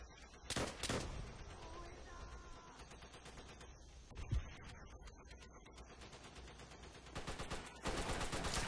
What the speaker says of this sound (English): there's still going to be more guys on top of the trenches firing down in at you